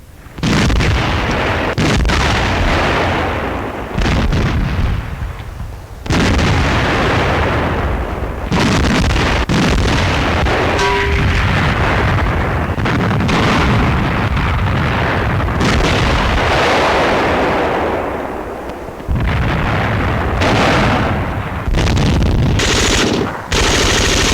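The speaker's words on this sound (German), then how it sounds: "Einschläge der sowjetischen Batterien. Die deutsche Artillerie schießt Sperre." A 1943 WWII front south of Leningrad, where German artillery fires a barrage and Soviet shells land. Loud, dense bursts of firing and booming impacts follow one another almost without pause, with a few brief lulls.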